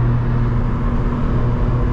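Steady, loud engine drone from a 400 hp BMW M3 E46 under way, a constant low rumble with a firm tone and no voices over it.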